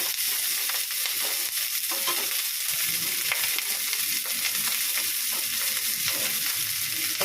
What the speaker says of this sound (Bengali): চিচিঙ্গেটা না পেঁয়াজ দিয়ে ভাজবো